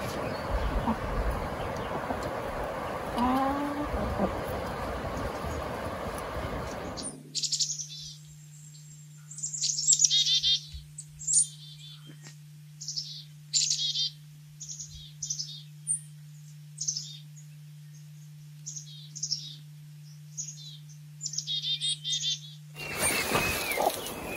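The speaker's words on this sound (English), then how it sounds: "Here's my interpretation of what the birds are saying through their contact calls." Birds making short contact calls while feeding, a series of sharp chirps in uneven bursts over a steady low hum, following a stretch of dense louder noise.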